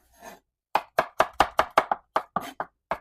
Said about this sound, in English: I find having them cut in half like this makes it easier to get those thin slices that I'm looking for.